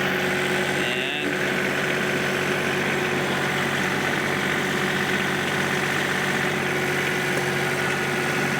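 A John Deere 2032R compact tractor engine runs steadily close by, a loud constant mechanical drone with a steady hum and no change in pace across the stretch.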